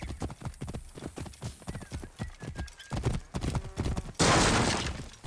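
A horse's hooves clip-clop steadily in Assassin's Creed Origins, close and rhythmic, with a whinny and a sharp crash near the end while characters speak intermittently.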